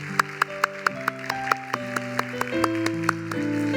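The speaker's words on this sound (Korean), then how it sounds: "우리 할 사람만 우리 힘차게 하나님께 박수 한번 돌려드리겠습니다" A church youth service congregation claps in a steady, evenly spaced rhythm over soft sustained keyboard and bass music, the claps sharp and moderately loud.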